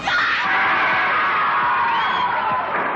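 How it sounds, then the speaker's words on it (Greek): A crowd of pop-group fans screams and shrieks in one continuous, loud, high-pitched wall of voices, with some rising squeals poking out above the roar. "Κλάματα, ουρλιαχτά και απίστευτες εκδηλώσεις θαυμασμού."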